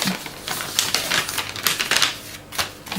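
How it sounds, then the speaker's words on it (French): Paper rustling and crinkling as an envelope is opened and a card is pulled out, a close, dry run of crisp bursts with short pauses between them and no voices. "Donc on va sortir ce qu'il y a dans l'enveloppe."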